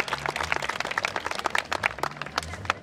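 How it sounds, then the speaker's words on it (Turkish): Clapping at a wedding celebration for the newlyweds, a steady patter of many hands filling the room, with voices and chatter mixed underneath. "Ve bir alkış genç evlere."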